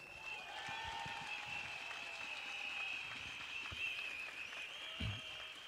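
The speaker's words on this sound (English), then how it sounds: "Let's give a round of applause for Dipna" Audience applause at a PAP political rally in Yishun Stadium, a soft, distant patter of clapping spread evenly across the clip beneath a steady high-pitched tone and open-air crowd noise.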